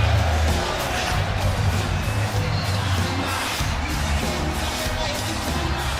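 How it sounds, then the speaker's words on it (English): A wrestling arena crowd cheers in a steady, loud roar of ovation that fills the space at constant level. "You hear the crowd."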